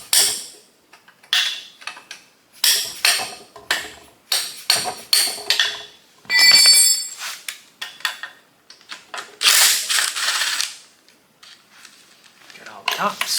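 Close, repeated metallic hammer taps on engine parts during a piston installation, struck with a wrench and hammer in an irregular rhythm, some blows ringing briefly against metal, with short pauses between bursts.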